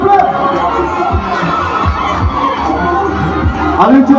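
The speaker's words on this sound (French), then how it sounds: "Sous vos applaudissements, s'il vous plaît." An outdoor crowd at a presidential visit in Makokou cheers and shouts for a group of high-school students, a loud mix of excited voices, whoops and chatter with faint clapping underneath.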